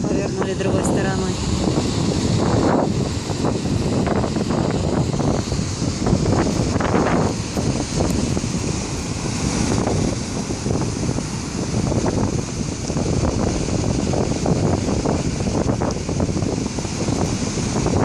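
Stormy sea surf at Bagration beach in Lazarevskoye on the Black Sea, with strong wind buffeting the microphone and waves crashing in a continuous loud roar throughout.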